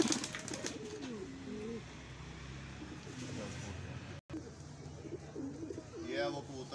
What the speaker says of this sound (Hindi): ये कसूरी कबूतर है